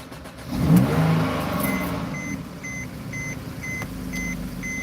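A car with a failing battery fires up after a jump start, its engine surging and revving, followed by a steady idle and a string of evenly spaced electronic beeps.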